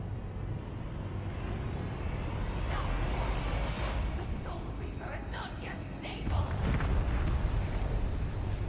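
A loud, sustained rumbling explosion from the fantasy game Elder Scrolls Online roars continuously and swells louder toward the end.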